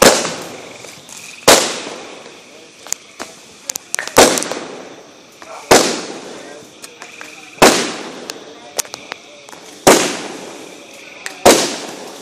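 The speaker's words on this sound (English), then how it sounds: "It's fireworks." Backyard fireworks and firecrackers go off in a series of sharp, loud bangs every second or two, each trailing into crackle and sizzle, with smaller pops in between.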